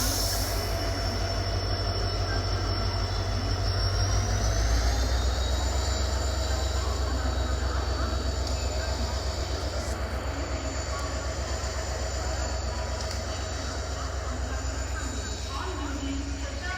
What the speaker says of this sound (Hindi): ये मेरे ख्याल से इंटरसिटी एक्सप्रेस है, पुणे मुंबई।